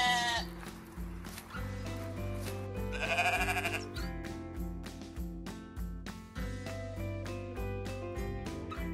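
Sheep on an Australian wool farm bleat repeatedly, several wavering cries overlapping near and loud, one stretched call standing out midway, with no talking.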